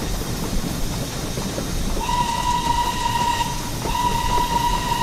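A steam whistle from the Stepney tank locomotive in the Train Sim game sounds over the steady rumble of a rolling train. The whistle starts partway through, holds for over a second, breaks briefly, then returns.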